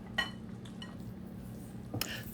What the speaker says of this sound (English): So to the oil and the eggs, I'm adding 3 cups of shredded zucchini. And I'm going to stir that up.